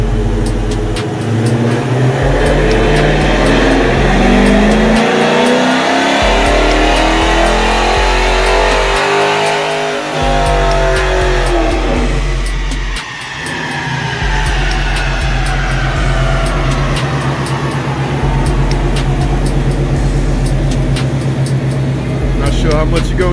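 Dodge Challenger with a 5.7L 345 Hemi V8, upgraded camshaft and MDS delete, roaring continuously on a dyno pull with a cooling fan, loud and sustained with rising engine pitch and someone talking over it.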